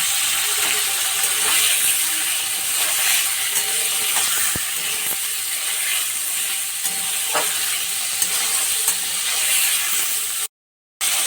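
Paneer pieces shallow-fried in a pan for sesame paneer give a steady, continuous sizzle throughout, with occasional small clicks and no talking.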